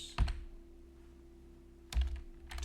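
Computer keyboard typing in two short bursts of rapid clicks separated by a quiet pause, close and clear with no talking.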